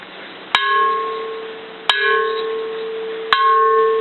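An old, heavy, thick bronze Japanese Buddhist temple bell struck three times at roughly 1.4-second intervals, each strike a sharp metallic onset followed by a sustained ringing hum with bright overtones, close and alone.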